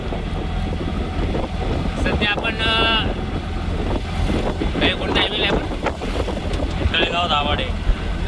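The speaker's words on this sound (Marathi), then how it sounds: "आणि खूपच अशा जोराच्या स्पीडमध्ये गाडी चालवत आहे आपली" An auto rickshaw speeds along a highway toward Talegaon Dabhade in Maval, with a steady roar of engine and rushing wind running the whole way while someone talks over it.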